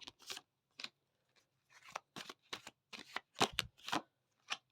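Tarot cards are shuffled by hand in short riffling bursts, crisp close papery flutters repeating irregularly against a very quiet background.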